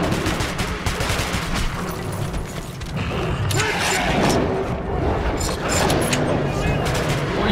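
Gunfire rattles through Metro 2033 Redux on hardcore difficulty, rapid overlapping shots and booming impacts forming a continuous loud fusillade, with a voice talking underneath.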